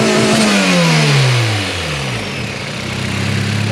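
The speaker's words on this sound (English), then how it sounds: "I'm gonna give it some gas to see how it works." Turbocharged car engine revs hard, pitch climbing then dropping in repeated surges, loud and close with no talk, then settling to a steady rumble.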